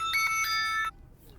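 A phone rings with a bright electronic ringtone, a short run of repeated tonal pulses that cuts off abruptly and leaves a quiet room.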